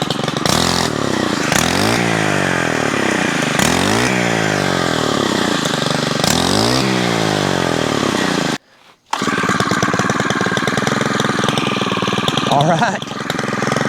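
Stihl FS90R string trimmer engine running close and loud, repeatedly revving up and falling back several times, cutting out briefly, then settling into a steady buzzing idle; a voice speaks briefly over it.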